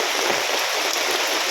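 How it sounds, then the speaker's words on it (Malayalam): Steady rain falling around a house under construction in Kerala, a dense, even hiss of drops on surfaces, close and continuous with no voices. "വർത്താനം പറഞ്ഞ് കേൾക്കൂല, മഴയാണ്."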